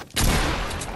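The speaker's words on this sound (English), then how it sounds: "Oh, I just shot his robot." In a video game, a gunshot strikes a robot: one abrupt, loud burst with a sharp attack, then a sustained, noisy crackle lasting under a second.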